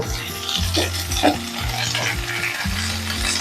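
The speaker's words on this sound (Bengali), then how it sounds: "আলু কুমড়ো একসাথে আরও একটু সময় ভাজা ভাজা করব" Potato and pumpkin pieces fry in a pan, with a steady sizzle and repeated scraping stirs from a utensil, close and clear, with no talk.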